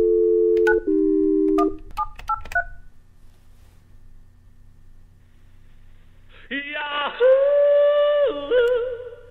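A quick run of telephone keypad tones beeps out a number, then after a pause a loud, steady ringback and automated phone tones follow.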